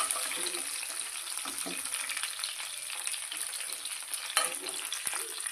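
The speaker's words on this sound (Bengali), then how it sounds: "আর এদিকে আলু ভাজা হচ্ছে" Potatoes frying in oil in a home kitchen, with a steady bright sizzle running throughout, a few soft stirring knocks, and one louder clack near the end.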